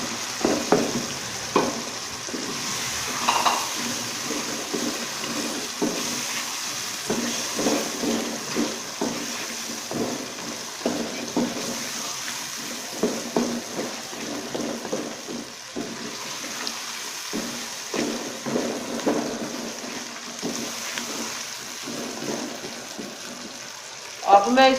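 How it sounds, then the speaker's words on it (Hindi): Potatoes added to a pan of fried masala for aloo gobi, with a continuous close sizzle and repeated stirring scrapes that rise and fall throughout. "अब मैं इसमें आलू डाल रही हूँ।"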